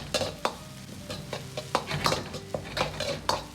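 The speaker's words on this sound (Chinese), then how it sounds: "接着放入葱姜蒜煸炒出香味" Scallion, ginger, garlic and chili stir-fried in a hot wok with minced pork and Sichuan pepper for dry-fried green beans: a spatula clanks and scrapes rhythmically against the metal over a low sizzle, close and loud, with no talking.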